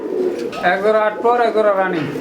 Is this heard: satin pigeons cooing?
yes